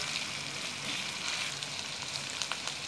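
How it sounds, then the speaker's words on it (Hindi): Chicken frying with garlic and onion for a chicken chana curry, a steady close sizzle filling the whole stretch with faint crackles and no voices. "चिकन को मैंने 1-2 मिनट भून लिया"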